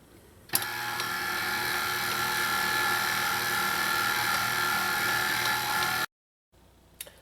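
A mixer kneads garlic knot dough with a steady, moderately loud mechanical whir and hum that starts abruptly and runs evenly for several seconds before stopping, then a faint restart.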